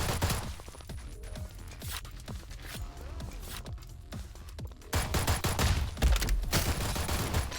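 Rapid bursts of gunfire from the free-to-play shooter Black Stigma, loud and close with dense overlapping shots that run nearly without pause and swell louder toward the end.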